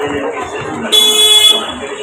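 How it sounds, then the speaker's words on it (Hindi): A car horn sounds one sustained honk of about half a second during heavy rain and wind, standing out over a steady wash of background noise on a dark, deserted road. "ये अभी पानी का चक्कर में हॉर्न मारा है अभी"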